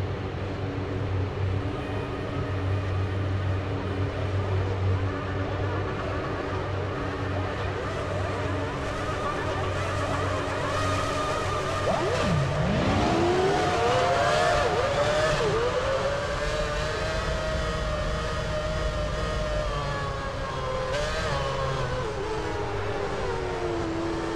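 Formula One cars in the PS3 game F1 Championship Edition drone steadily as the field rolls off on a parade lap, one engine rising sharply in pitch midway as it accelerates past.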